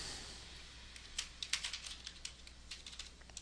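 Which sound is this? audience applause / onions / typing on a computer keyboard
typing on a computer keyboard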